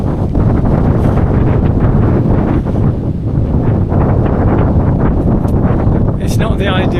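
Strong gusty wind buffets the microphone on a hilltop, a loud continuous roar with surging rumbles and brief lulls, a voice faintly audible beneath it.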